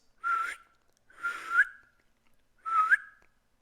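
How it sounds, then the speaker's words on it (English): Three clear whistled calls, each a short rising note with a slight upward flick at the end, separated by brief pauses, close and fairly loud. "it's a good calling whistle"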